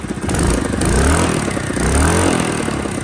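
A Honda Helix scooter engine, just reassembled, runs steadily and close by. It has a rough, continuous mechanical drone with slight swells in revs and no talk.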